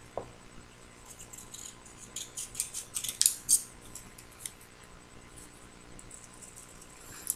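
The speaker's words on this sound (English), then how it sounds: "cut off the excess so that the ends match up with one another." Scissors trim excess craft material from a folded DIY Mother's Day gift, a run of quiet snips clustered mid-clip, close but faint, with no talking.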